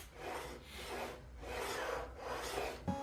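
A handsaw rasps back and forth through a clamped wooden board during a middle cut, three long steady strokes close by, ending with a short knock.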